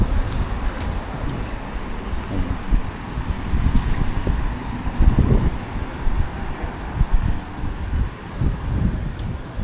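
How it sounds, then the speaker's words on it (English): Breezy outdoor wind at Palmanova, Mallorca, buffeting a microphone with a steady, loud rumble and gusts that swell and ease throughout, with no voices heard. "Definitely a bit breezy"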